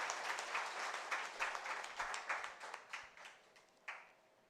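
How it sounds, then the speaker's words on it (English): Audience clapping at a welcome event for students from Manipur, a moderate round of hand claps in pulsing bursts that gradually thins out into a few scattered last claps. "Give a round of applause to friends from Manipur."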